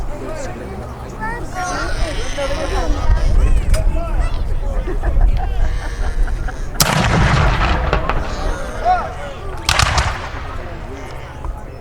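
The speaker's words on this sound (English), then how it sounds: "Hold the cannon, Rose." Loud cannon blasts boom out at a Battle of Brooklyn reenactment amid shouting voices and crowd noise, with two big sharp reports standing out over the commotion.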